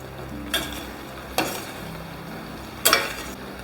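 Roasted crushed peanuts are stirred into a dry potato dish in a pan, giving three separate scraping strokes of the spoon over a faint sizzle, close and moderately loud.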